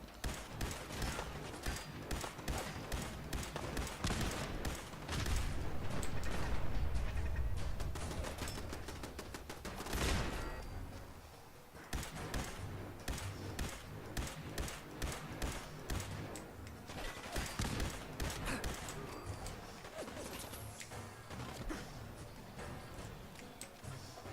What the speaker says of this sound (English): I heard a turret spinning up